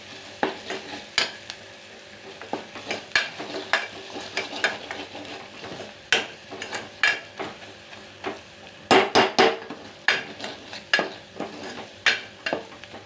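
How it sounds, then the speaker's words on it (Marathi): A spoon scrapes and knocks against a pan as roasted masala for matki rassa bhaji is stirred, giving irregular, close metallic clinks over a soft sizzle. "तर मस्त सर्व एकजीव करून घ्यायचं"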